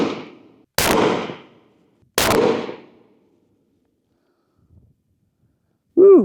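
A Ruger American Gen 2 rifle fires two loud, sharp shots about a second and a half apart, each with a ringing tail fading into quiet, before a short voice cuts in at the end.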